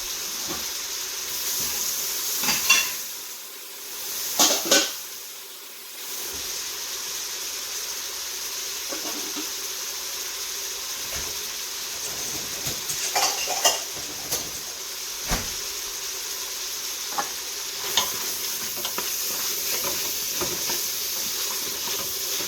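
Mushrooms sizzling as they go into a hot Instant Pot for chicken dumplings, a steady broadband hiss lasting throughout with a few louder crackles and spatters, moderately close and heard alone.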